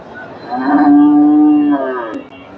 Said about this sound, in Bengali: ফ্রিজিয়ান জাতের সার চমৎকার একটা সার গরু